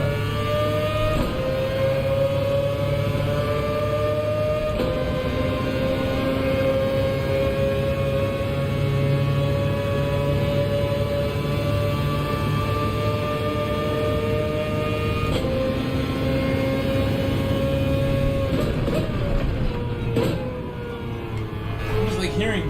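A steady car engine drone from the video game Gran Turismo 7 with tonal harmonics runs throughout, loud and continuous, shifting pitch slightly a few times like a vehicle engine under load.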